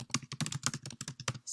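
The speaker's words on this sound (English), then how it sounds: "as I start my observations, I can start typing them in" Rapid keystrokes on a computer keyboard, a close, quiet run of uneven clicks with no talking.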